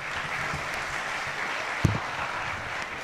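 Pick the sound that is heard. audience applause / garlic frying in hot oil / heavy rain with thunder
audience applause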